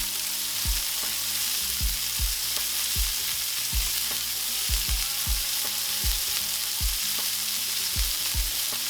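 Hamburger meat and bacon fat frying in a pan for homemade Hamburger Helper, a steady broadband sizzle broken by regular low thumps and scrapes of stirring, close and alone with no talking.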